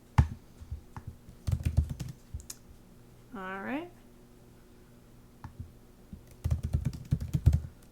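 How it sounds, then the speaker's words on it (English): Bursts of rapid clicking computer keyboard typing, close by, separated by quiet pauses, with a person speaking briefly in between. "Oh, you can't see me typing."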